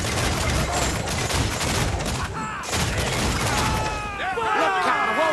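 Ship cannons firing in a naval battle in Assassin's Creed 4: Black Flag, a dense run of booming volleys over loud battle noise, with shouting voices and whistling sounds toward the end.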